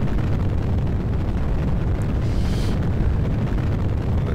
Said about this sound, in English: fire off the second stage.